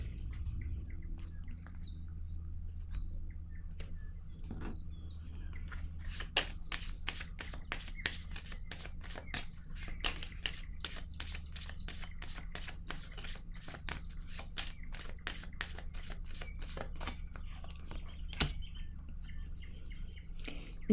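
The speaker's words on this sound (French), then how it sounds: "Je vais déposer une autre carte." Tarot cards shuffled and laid down in a steady run of crisp, rapid flicking and riffling clicks, close and fairly quiet, with a faint low background hum and no talking.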